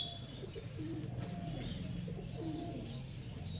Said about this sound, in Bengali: কতটা অ্যাগ্রেসিভ পায়রা দেখছেন আপনারা